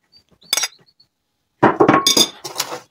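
Sauerkraut tipped into a glass bowl of beet vinaigrette salad with pickles: a brief clink of a utensil against the glass, then a soft pause, then a burst of wet, rustling and scraping sounds close by.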